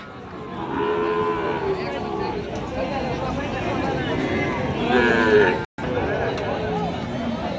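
A Sahiwal cow moos at a cattle market with several long, low bellowing calls amid the crowd's chatter and a nearby voice talking over it.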